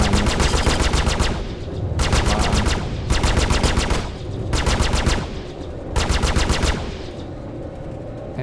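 Badger ship guns in the Star Citizen space game fire in long rapid bursts, about five sustained volleys separated by short gaps, loud and close with a dense mechanical rattle.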